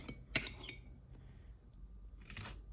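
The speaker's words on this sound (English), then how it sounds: "So you can use a knife or a spoon, and I'm just going to grab a little bit" A knife or spoon scooping mustard and mayonnaise while a sandwich is made, a sharp metallic clink against a jar followed by a few softer taps, quiet and close.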